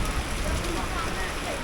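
Steady rain patters on a house roof in a Thai village, a dense, even rush of drops heard up close for a brief moment.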